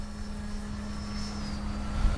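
An FMS Rafale 80mm RC electric ducted-fan jet whines in steadily on its landing approach, a thin high tone over a low hum, fairly distant and without talk.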